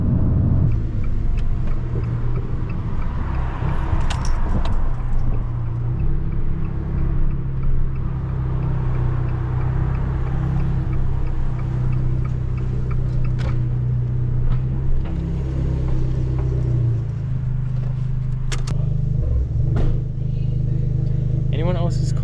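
A Fiat Abarth 595 with a 1.4 turbo engine drives on a country road, its engine rumbling and revving continuously from inside the cabin while someone talks over it.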